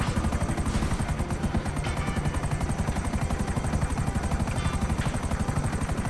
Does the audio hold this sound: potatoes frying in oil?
no